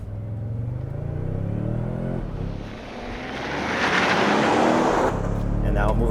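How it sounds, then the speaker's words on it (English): A 2023 Toyota Sequoia Capstone launches in tow haul mode, its engine droning low and then rising into a loud, swelling acceleration roar inside the cabin, with a person talking over the start. "I'm gonna try tow haul and launch it."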